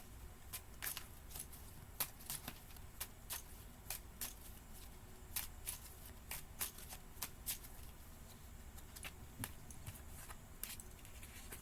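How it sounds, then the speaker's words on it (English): Tarot cards being shuffled and pulled by hand, giving quick papery riffles and snaps that repeat steadily over a faint background with no talking. "Let's pull some more cards."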